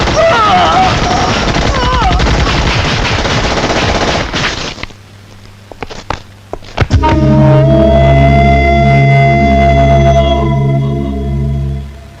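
A sudden burst of rapid gunfire erupts after a stretch of talking, then a tonal alarm-like drone continues loudly alongside the shots.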